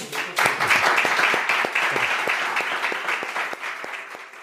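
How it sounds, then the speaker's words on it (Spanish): Audience applause following a talk on how the brain works when trying to change, a room full of hands clapping that swells quickly, holds for a few seconds with individual claps audible, then gradually thins and fades. "Un aplauso."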